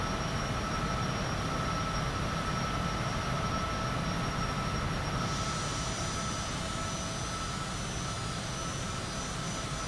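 Aircraft engine accelerating in the Microsoft Flight Simulator 2020 video game, a loud, steady, full-bodied roaring drone with a constant whine on top, shifting slightly partway through.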